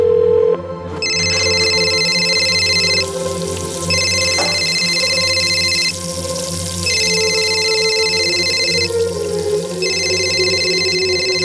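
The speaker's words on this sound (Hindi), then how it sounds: "प्लीज फोन उठा लो पायल" A telephone rings loudly and close by in four evenly spaced bursts, each about two seconds long with short pauses between.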